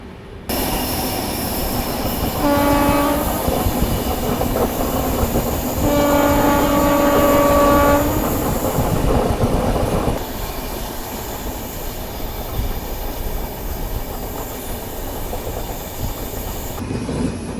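The Jamnagar Tirunelveli Express passes close by during a crossing, with a steady rumble of wagons and clattering wheels, long horn blasts near the start and again a few seconds later, and the rolling noise continuing after the horns stop.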